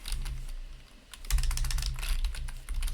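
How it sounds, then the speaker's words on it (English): Rapid typing on a computer keyboard while a folder path is entered, a dense run of close, crisp key clicks with a short pause near the middle. "Type the folder path."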